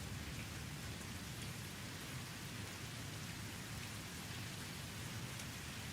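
Steady rain pours in a video game, a dense even hiss with soft low patter and a faint rumble of thunder, continuous and fairly close, with no voices.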